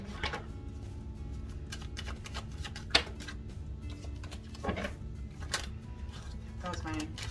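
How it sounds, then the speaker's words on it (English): Tarot deck being shuffled by hand, a string of soft riffling bursts and card taps at close range, quiet overall, with one sharper snap partway through and low room hum underneath. "That was my not so good shuffling"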